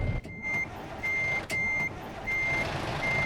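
A truck in American Truck Simulator backs up with its reversing alarm, a regular series of clear, steady beeps repeating about once a second over a low engine rumble.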